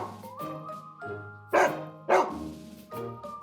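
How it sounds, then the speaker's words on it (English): A big dog barks several times in short, loud bursts, some with a yelping edge, close and distinct with brief pauses between them and no voices. "Number 3, fear of big dogs."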